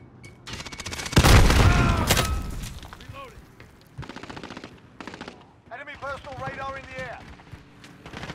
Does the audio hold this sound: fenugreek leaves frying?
no